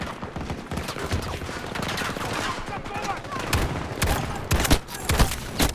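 Gunfire from a Desert Eagle .50 caliber pistol in a video game, with sharp, loud single shots near the end. Dense, rapid battle noise fills the background throughout.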